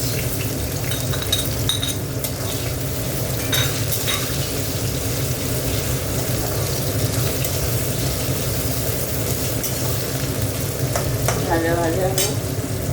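Onion fries in hot oil in a pan while being stirred, a loud, steady sizzle with occasional scrapes and clinks of a spatula against the pan, continuous throughout with no talking.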